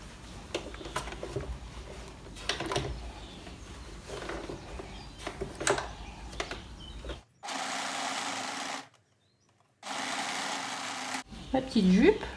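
A domestic sewing machine runs in two steady bursts, stitching closed a small hole in a little flounced skirt, close and loud, with quiet gaps between and softer handling noises before.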